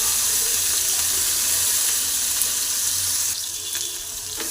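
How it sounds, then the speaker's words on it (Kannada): Chopped tomato frying in oil for a quick vegetable stir-fry gives a steady, close sizzling hiss that eases slightly toward the end, with no talking. "ಟೊಮಾಟೊ ಸ್ವಲ್ಪ ಚೆನ್ನಾಗಿ ಎಣ್ಣೆಯಲ್ಲಿ ಫ್ರೈ ಮಾಡ್ಕೊತಾ ಇದ್ದೀನಿ."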